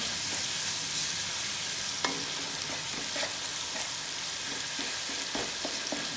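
Garlic paste roasts in a pan while arbi is cooked with lassi, a constant hissing sizzle with repeated scraping and tapping stirs from a spoon, close and alone.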